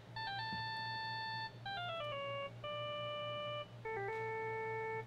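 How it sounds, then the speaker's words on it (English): A phone ringtone from the Phoenix Wright: Justice For All video game plays a bright electronic melody of sustained tones in four phrases, clear and steady over a low background hum. "I bet it was this ringtone that caused it"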